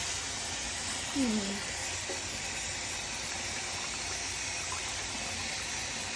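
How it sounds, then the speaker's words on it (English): Water runs steadily from a tap and overflows a pot while barley is rinsed for cholent, a continuous close hissing gush throughout, with a brief voice and a faint clink in the background. "The way to rinse barley is you have to have it overflow."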